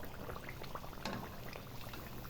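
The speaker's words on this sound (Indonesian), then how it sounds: "Cemilan sore, goreng pisang tuh, pisang kuning ya." Yellow bananas fry in hot oil for an afternoon snack, a dense, steady bubbling sizzle heard close up and without pause, with no one speaking.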